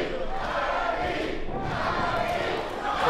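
A wrestling crowd at an NWP event chants for Mikey O'Shea, a steady roar of many voices in an arena, continuous and moderately loud throughout.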